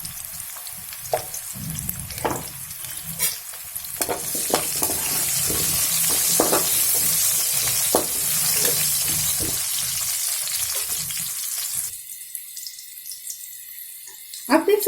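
Pumpkin pieces frying in hot oil with salt and turmeric powder, a steady close sizzle running under clinks and stirring, with water-like hiss; it cuts off near the end to a quieter tail.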